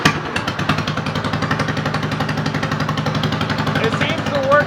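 A Derby lawnmower engine running rough while it warms up, a loud, steady, rapid chugging pulse up close that holds throughout the clip.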